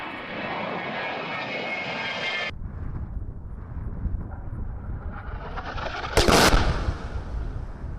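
A-10 Thunderbolt II Warthog close air support jet, a loud engine roar that cuts off abruptly, then low rumbling with a sharp burst of blasts near the end.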